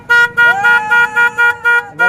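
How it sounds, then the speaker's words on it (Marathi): A car horn honks in a rapid series of about seven loud, close toots, each short blast separated by brief gaps. "हॉर्न बघू मित्रांनो"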